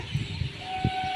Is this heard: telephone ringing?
no